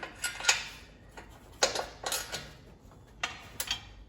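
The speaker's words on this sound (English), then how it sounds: "I'm going to be using a deep socket with a flexible head ratchet." Flexible head ratchet with a deep socket working on 13 mm nuts under a 2016 VW Passat, giving quick bursts of metallic clicking separated by short pauses, close and fairly crisp.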